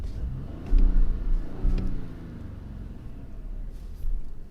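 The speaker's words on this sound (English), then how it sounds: "Let's see if you hear the revving." A 2019 Audi Q8 SUV engine revs up in two short surges, a deep muffled rumble from inside the cabin, then settles to a low idle before a brief final rise.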